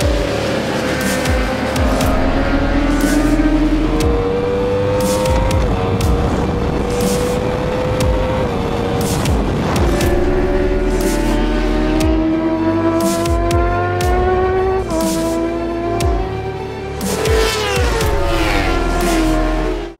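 A 2015 Yamaha R1 sport motorcycle on a track session around a racing circuit, its engine roaring loud and close throughout with pitch climbing and dropping repeatedly through the gears, no talking.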